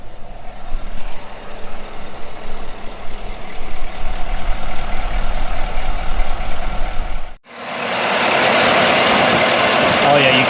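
A V8-swapped Chevrolet Colorado with a quiet titanium exhaust idles with a steady low rumble and broadband exhaust noise for about seven seconds, then cuts abruptly to a loud, close, hissing airflow sound as the microphone shifts.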